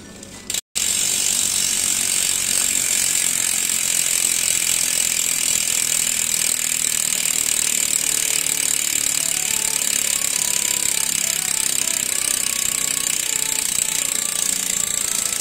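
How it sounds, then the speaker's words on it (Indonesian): A Bontrager Affinity TLR wheelset on a 2021 Trek Emonda SL5 road bike freewheels with a fast, continuous ratcheting buzz from the freehub, steady and loud through nearly the whole stretch after a brief start. "Oke, ini adalah suara dari si Bontrager Affinity TLR."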